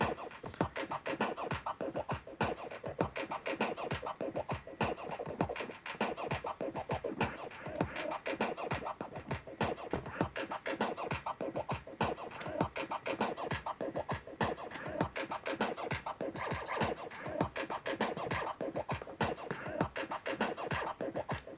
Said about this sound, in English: sounds like a real sort of scratch bonanza here